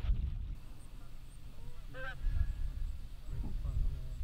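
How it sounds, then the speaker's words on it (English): Geese in a large flock honk a few times at a distance while descending toward a hunting spread, over steady low outdoor rumble with no talking. "the hundreds of birds that Mike had talked about, they were starting to descend"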